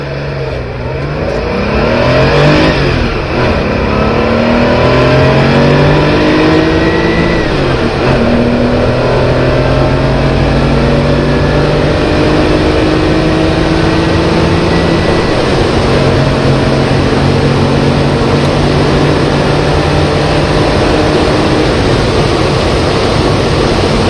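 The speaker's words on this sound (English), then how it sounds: "So let's do an acceleration test in this Porsche 911 from 1983." A 1983 Porsche 911 3.0 SC accelerates hard, its engine note rising steadily through several gears, loud and close, with no talking.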